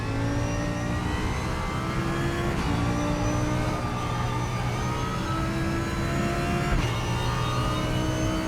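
Race car engines in RaceRoom Racing Experience, Super GT class, rev and whine steadily and loudly, rising in pitch between sharp gear shifts that recur every few seconds, with no voices.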